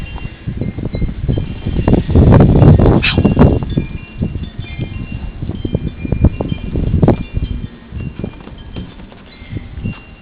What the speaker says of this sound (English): And I'm sure you can probably hear the wind.